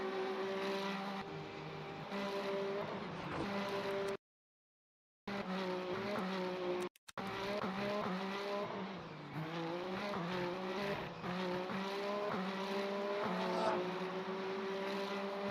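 Dozens of race cars roar through a rainy video game race, engines droning and shifting in pitch as they pass, with a brief dropout and a few stutters partway through.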